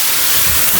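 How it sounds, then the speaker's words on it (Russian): Chicken frying in a pan in a home kitchen gives off a loud, steady sizzling hiss that runs unbroken from start to finish with no voices. "Курица жарится."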